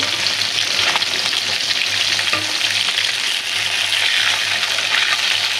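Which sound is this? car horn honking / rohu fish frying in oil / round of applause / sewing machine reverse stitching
rohu fish frying in oil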